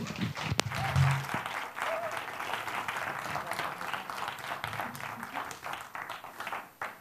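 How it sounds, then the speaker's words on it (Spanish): Audience at a technical audiovisual conference applauds the speakers in a steady, moderately distant round of clapping, with some voices and a few bumps underneath, tapering off at the end. "un aplauso para ellos"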